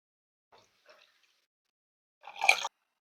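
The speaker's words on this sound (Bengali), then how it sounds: "আর এই বাটি দিয়েই আমি দিয়ে দেব 1 বাটি জল।" A bowlful of water is poured onto semolina, a short, close splashing burst near the end after two faint small taps in otherwise near silence.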